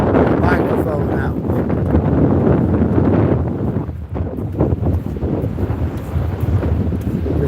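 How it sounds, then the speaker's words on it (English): Gusty wind roars steadily across a cliff and seaside promenade, loud low rumbling buffeting close on the microphone throughout. "There's certainly a wind here at the moment."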